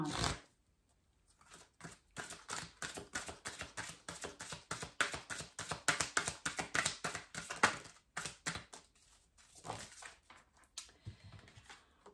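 Oracle cards are riffled and shuffled in quick, crisp flurries of papery flicks, close and steady with brief pauses.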